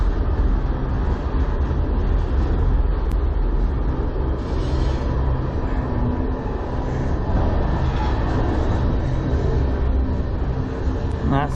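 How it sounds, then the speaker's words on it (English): A CN manifest freight train with locomotives 3044 and 3190 rolls slowly past a Sarnia, Ontario rail yard, giving a steady, loud low rumble with faint metallic squeals and clanks throughout, with no talking. "That's why many here call this train the snail train, because it always takes forever to get up to speed."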